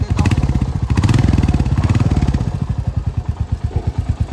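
Royal Enfield Hunter 350 in Rebel Red with its exhaust note close up, a steady thumping single-cylinder idle with evenly spaced pulses, loud and alone.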